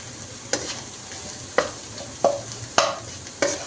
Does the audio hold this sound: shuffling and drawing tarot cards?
no